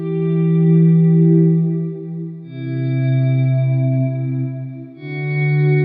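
Ambient electric guitar volume swells through delay and reverb pedals: sustained chords fade in smoothly and ring out in three long, overlapping washes with a shimmering echo tail, loud and alone.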